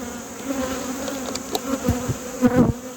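Honey bees buzz steadily at an open hive during a chestnut honey harvest, a close, continuous drone with a few louder passes near the end.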